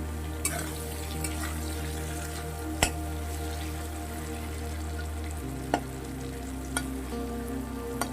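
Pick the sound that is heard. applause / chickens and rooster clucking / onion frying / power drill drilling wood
onion frying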